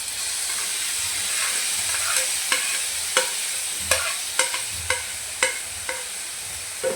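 Chopped vegetables sauté in a hot pan with onion for a jowar flour recipe, giving a steady sizzling hiss broken by repeated sharp clicks of a spoon stirring and scraping.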